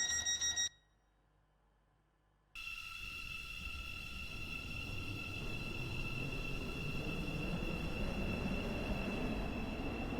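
A Class 707 train on the Stepford County Railway in Roblox runs with a steady rumbling drone and sustained high motor whine tones after a brief chime and a pause of near silence.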